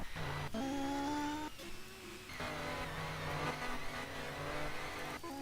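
Race car engines in a Sebring Grand Prix round of a sim racing series rev and climb through the gears, pitch rising and dropping sharply at each shift, loud and continuous.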